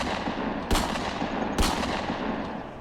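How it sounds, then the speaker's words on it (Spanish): Two loud, sharp gunshots ring out about a second apart over a steady low rumble, each a sudden broadband crack. "3 tiros estallaron ante nosotros, la ráfaga nos deslumbró y las explosiones casi nos reventaron los oídos."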